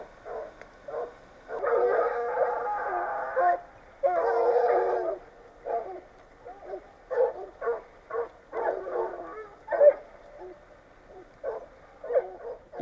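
Hunting hounds, including a small blue hound, bay and yelp in bursts while chasing a hare through countryside, moderately distant, with irregular barking that rises in loud clusters and trails into short scattered cries.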